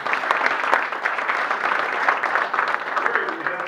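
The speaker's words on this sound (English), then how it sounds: "Let's give him a round of applause for our greeters." Applause from members at a Rotary club meeting for the greeters, a steady patter of many hands in a room, holding an even level throughout with a few voices faintly mixed in.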